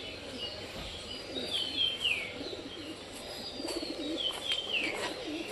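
Pigeons coo softly inside a pigeon loft, with repeated low coos, a few chirps and faint wing flutters over a quiet room background.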